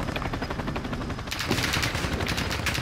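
Rapid automatic gunfire in Call of Duty: Modern Warfare II multiplayer, a dense continuous burst of shots, close and loud, intensifying midway.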